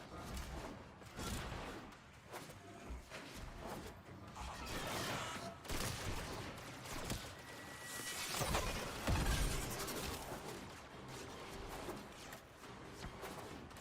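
Enemy gunfire in the video game Warframe, a busy stretch of rapid shots, crashes and whooshing effects that continues for the whole span with swelling bursts, loud and close, with no talk over it.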